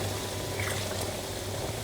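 Tomatoes pour into a pot of peanut soup in a steady liquid wash, a continuous wet splashing and trickle with a low kitchen hum underneath, close and moderately loud.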